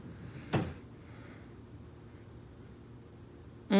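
A bathroom drawer slides open or shut once, a short near knock early on, with a second bump at the very end over a quiet room hum.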